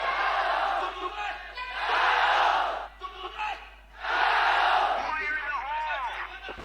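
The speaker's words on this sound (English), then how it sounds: "The crowd are getting behind ViciGaming here." Esports arena crowd at a Counter-Strike grand final chanting and roaring for ViciGaming in surging waves, loud and sustained with brief dips between chants, while a commentator's voice is faintly heard underneath.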